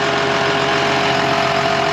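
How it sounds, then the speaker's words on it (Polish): A John Deere 6920 tractor's engine runs steadily while ploughing a field before rapeseed sowing, a constant loud droning hum with no change in pitch or level. "Traktor też idzie, co?"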